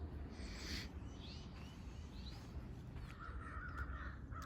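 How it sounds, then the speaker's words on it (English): Crows cawing excitedly in a Florida sand pine scrub preserve, several distant calls scattered across the moment over a steady low outdoor hum. "There's some crows going crazy over there."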